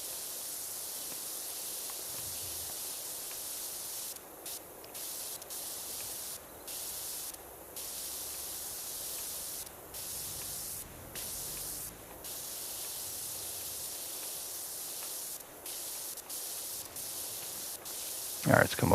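Pressure washer blasting in PowerWash Simulator 2, a constant close hissing spray with short breaks as the jet stops and restarts, then a sharp clatter right at the end.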